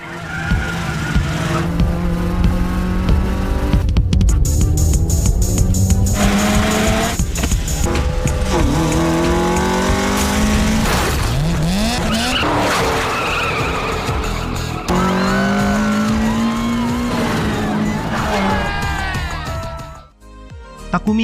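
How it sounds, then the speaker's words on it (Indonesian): Race cars from the Initial D film skid and squeal their tires through mountain corners at Akina, with screeching tones sliding up and down over a steady, loud engine roar, a dense continuous scene that cuts off near the end. "Ryosuke berhasil menyalip Takumi di beberapa tikungan akhir, lalu Takumi teringat nasihat dari sang ayah yang membuatnya kembali mampu menyalip Ryosuke di tikungan terakhir"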